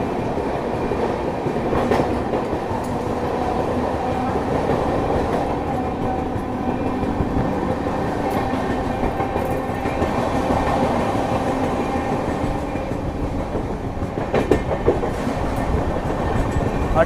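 A Geetanjali Express passenger train of Indian Railways runs steadily on its rails, a continuous loud rumble with faint clickety-clack of wheels over track joints heard from on board, with no talking.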